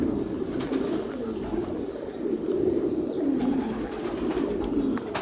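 Domestic pigeons, a breeding pair raising young in a loft, cooing in low continuous murmurs that run steadily through the whole stretch at moderate loudness, with no talking.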